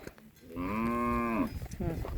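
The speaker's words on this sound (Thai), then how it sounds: "วัวแดง" A red cow lets out one loud, close, drawn-out moo lasting about a second, with faint farmyard noise before and after.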